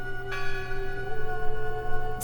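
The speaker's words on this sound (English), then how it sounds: "Listen. The bell. They're still in there." A church bell in the video game Draugen rings once clearly with a bright strike, then its tone hangs and slowly fades over a steady background hum.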